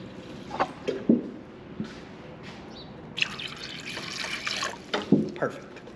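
Water splashes and pours steadily into the tank of a Harbor Freight ultrasonic cleaner for a couple of seconds, with scattered drips and light knocks before and after.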